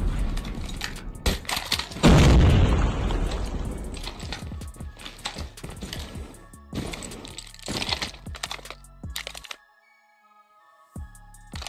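Gunfire in a Search & Destroy shooter game comes as a loud burst of sharp cracks and reports, followed by more scattered shots and a near-silent stretch before a final few.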